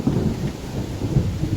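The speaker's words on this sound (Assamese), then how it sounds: "ভয়ানক বতাহ বৰষুণ আছে, ভয়ানক বতাহ বৰষুণ।" A violent storm lashes down with strong wind, heavy rain and thunder, a dense low roar that stays loud and steady throughout with rumbling swells.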